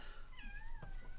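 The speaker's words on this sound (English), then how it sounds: "we have a cat meowing very loudly" A cat lets out a single loud, drawn-out meow that rises and then falls, close by, over faint background noise.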